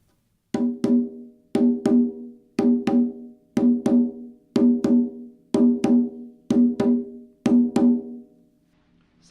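Conga drum struck with open tones, paired hand hits falling in an even repeating pattern, each a round resonant pitched thump that rings briefly, played solo and close with a quiet start and end.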